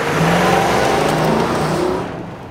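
A 2022 Infiniti QX80 SUV drives off-road with a loud, close, steady engine drone and some rising revs, easing off slightly near the end, with no talking.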